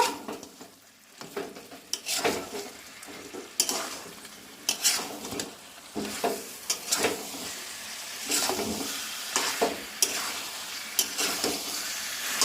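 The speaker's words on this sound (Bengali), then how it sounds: "এখন আরেকটু কষিয়ে নেব" Chicken curry stir-fried in a pan, with repeated clanks and scrapes of a spoon against the metal over a light sizzle in an irregular stirring rhythm.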